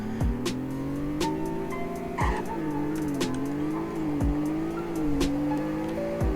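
A car engine in the Roblox game Greenville roars and climbs in pitch through several gear shifts, with brief tire squeals.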